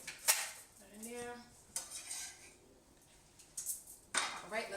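Roughly chopped romaine lettuce dropped into a salad bowl, giving a few soft rustling thumps and light clinks of kitchen utensils against dishes at close range, with brief pauses between.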